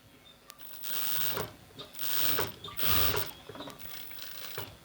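A sewing machine stitches blouse pieces together in short mechanical runs of rapid clicking and whirring, close and moderately quiet, with slight pauses between bursts.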